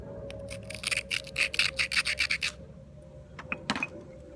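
Stone being struck with an aboriginal percussor during flint knapping, a quick run of about a dozen sharp, close clicks and scrapes, then a pause and a couple more isolated strikes.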